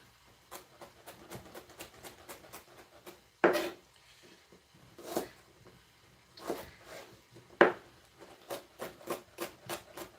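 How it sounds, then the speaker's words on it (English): A knife dicing celery into small pieces on a cutting board, giving a run of quick, fairly close taps and chops in bursts with short pauses between, alongside a few louder scraping strokes. "And I'm going for a pretty small dice here. Like, I want to cut it into small pieces."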